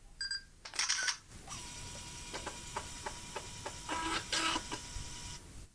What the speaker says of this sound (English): So that's the sound of taking a picture.